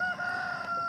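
Backyard chickens fill the moment with a steady, close rooster-like crowing tone held over a continuous barnyard din, a bright sustained call running the whole short stretch with no one talking.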